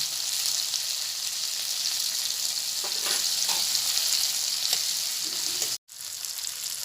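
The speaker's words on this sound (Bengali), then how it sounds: "করলাগুলো আমি তেলের মধ্যে দিয়ে দিচ্ছি" Round bitter gourd slices and curry leaves fry in hot oil with a steady, close hiss, a few soft stirring clicks, and a brief drop to near silence before the sizzle resumes.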